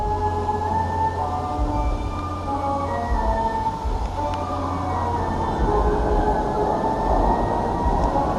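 The Oziris roller coaster train at Parc Astérix rumbles past on nylon wheels, a loud continuous roar with resonant droning and whining tones that swell toward the end.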